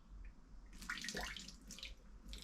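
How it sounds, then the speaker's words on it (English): Boiled water poured into a small brewing vessel in a garden shed bar, a faint, close, brief gurgling splash that rises and tapers over a couple of seconds. "if I get some boiled water here and add that into there"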